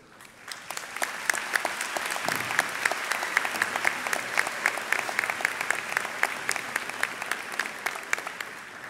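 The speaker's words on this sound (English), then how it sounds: "give them a round of applause and thank them for their support" Dense, steady applause from a large audience at a fall 2018 UT Dallas university commencement ceremony, sustained and close, with many overlapping claps for the full duration and no speech on top.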